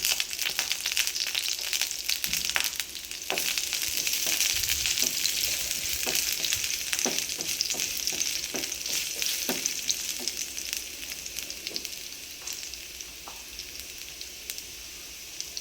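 Cumin seeds and garlic fry in hot oil for a cabbage fry, giving a constant close crackling sizzle with scattered popping ticks that slowly thins out over the stretch, with no speech.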